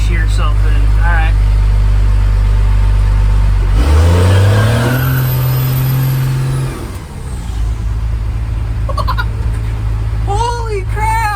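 A Cummins diesel truck engine roars and revs hard through a standing burnout, the pitch climbing sharply midway then dropping back to a loud rumble, with voices and shouts over the din.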